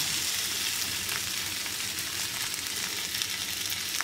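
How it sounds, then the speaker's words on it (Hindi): Crushed potato and spices, salt and amchur among them, stirred together in a hot pan for Mumbai vada pav filling, giving a steady close sizzle with soft scraping throughout and no talking. "और अच्छी तरह से मिक्स कर लेंगे मसाले को आलू के साथ में"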